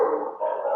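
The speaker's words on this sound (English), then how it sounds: "and there's the dogs" Dogs bark and howl in a brief, sustained burst, heard fairly clearly from somewhere nearby, with no talking over it.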